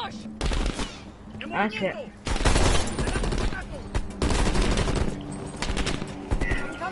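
Call of Duty Cold War gunfire crackles in loud, rapid bursts of automatic shots across several seconds, broken by brief pauses, with a player exclaiming over the shooting.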